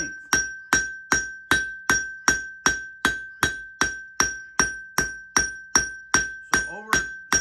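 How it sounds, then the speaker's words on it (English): A cross peen hammer strikes hot steel on an anvil in a steady rhythm of about twenty sharp, ringing blows, each with a bright metallic ring, close and loud with no talking. "I'm going to use my cross peen and sort of work out the length."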